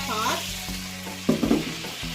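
Meat for mechado sizzles and fries in a pan, a steady crackling hiss with clinks and scrapes of stirring in the latter half.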